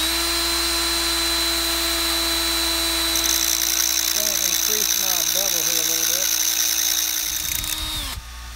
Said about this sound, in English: because of the rotating screw and the lathe going sort of in opposite directions